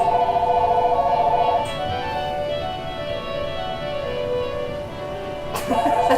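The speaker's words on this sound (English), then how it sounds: "That's my phone." A mobile phone ringtone chirps in a repeating electronic pattern, cutting off and returning, under a quiet room hum during a conversation, with no words spoken over it.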